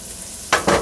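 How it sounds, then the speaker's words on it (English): Butter hitting a hot pan as chicken borscht is being cooked, a quiet hiss that jumps into two short, loud sizzling bursts near the end. "I'm going to throw a bit more butter in here."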